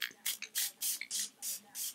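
Six quick hissing bursts of makeup setting spray misted onto a face, evenly spaced and close up, each a short airy puff.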